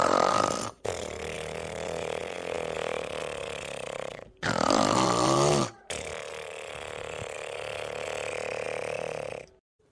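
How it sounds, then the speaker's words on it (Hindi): Someone snoring heavily while asleep: long, loud, rasping rattles on each breath, broken by short silences, close up and with no talk over them. "अरे उठबो कि खर्राटा मरबो यार"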